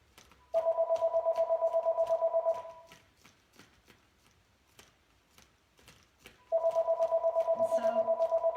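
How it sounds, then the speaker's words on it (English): A mobile phone rings in an art studio: two bursts of rapid, pulsing electronic trills, each about two seconds long, separated by a quiet gap with faint tapping sounds. "Oh, that's my phone."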